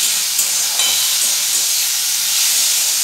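Red lentils fry in hot mustard oil with a loud, steady, broadband sizzle and hiss, continuous and close, with no talking.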